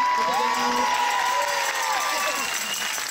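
A live theatre audience at a stage show finale applauds loudly with cheers and whoops, dense sustained clapping under a voice speaking over a microphone.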